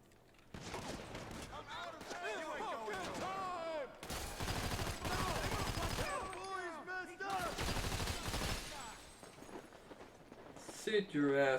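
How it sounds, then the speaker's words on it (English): Bursts of automatic gunfire from machine guns during a heist shootout in Grand Theft Auto V, loud and dense in rapid rattling volleys with short gaps, mixed with game sounds and a voice talking. "Okay, machine guns it is then."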